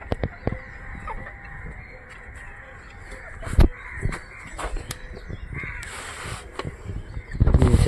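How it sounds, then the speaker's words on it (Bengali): Several harsh crow caws ring out at intervals over a low outdoor background, with a few louder clucks from chickens and rustles near the end. "দেখো কাকের আওয়াজ শুনে এরা"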